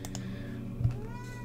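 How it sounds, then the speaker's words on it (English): A pet cat gives a single short meow partway through, faint and slightly distant, over soft background music with light clicking. "I don't know if you can hear my cat."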